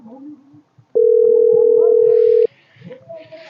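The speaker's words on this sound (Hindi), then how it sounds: "उनके लगा फोन लगा दिया यार" A single steady electronic telephone tone sounds for about a second and a half, loud and close, amid faint background voices.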